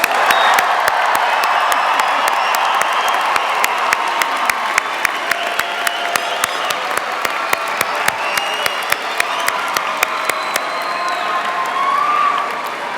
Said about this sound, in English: Please rise and join me in giving all of our graduates a well-deserved round of applause.